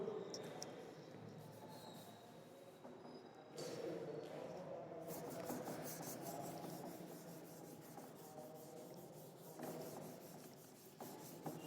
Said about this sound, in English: I am rubbing the board.